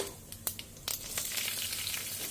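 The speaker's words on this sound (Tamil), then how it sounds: "இப்போ எண்ணெய் கொஞ்சமாக குத்தின்ட்டுருக்கேன் அதில் கடுகு உளுத்தம்பருப்பு போட்டுருலாம் பொரியட்டும்" Mustard seeds and urad dal fry in a little oil, sizzling steadily close by with scattered sharp pops and crackles, and no one speaking.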